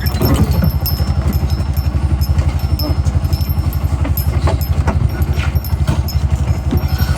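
A repaired motorcycle engine running on a trial start, a loud, close, steady low thumping pulse with a rapid even beat and light mechanical clatter on top.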